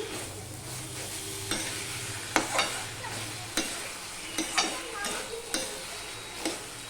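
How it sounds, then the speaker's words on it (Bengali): Pumpkin greens and potato fry in a pan with a steady sizzle while a spoon stirs and scrapes, giving repeated sharp taps against the pan at close range. "দিয়ে আবারও নেড়ে চেড়ে কষিয়ে নিচ্ছি"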